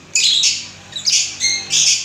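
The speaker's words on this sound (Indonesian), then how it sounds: "burung lovebird yang diternak di sini" Lovebirds at a breeding farm give three bursts of shrill, harsh squawking, close and loud with brief gaps between calls and no talking.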